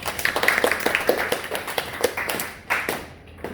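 A small church gathering claps, a scattered, uneven patter of individual hand claps close by that thins out and fades toward the end.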